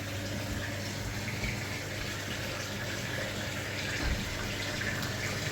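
Water runs steadily through an Audi 80 radiator as it is flushed, a continuous close gushing and splashing stream with no voices.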